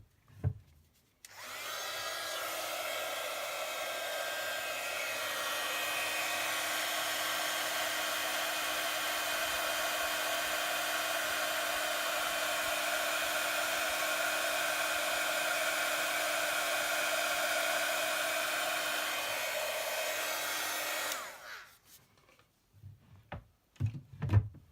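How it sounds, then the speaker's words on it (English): A heat gun blasts over a craft piece in one continuous, steady whoosh for about twenty seconds, starting and stopping abruptly, followed by a few small handling clicks. "Give that a blast with my heat gun"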